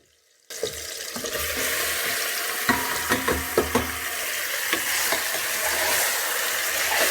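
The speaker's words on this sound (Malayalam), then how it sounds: "നന്നായി ഇളക്കി ഇതിൻ്റെ കളറൊന്ന് നന്നായി മാറി വരണം." Marinated mutton fries in a pan with a sudden loud sizzle that holds steady, while repeated knocks and scrapes of stirring break through it at close range.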